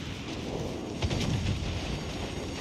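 Secondary guns of a warship booming in World of Warships Legends, a dense rumble of overlapping blasts with a couple of stronger thumps near the middle, no voices.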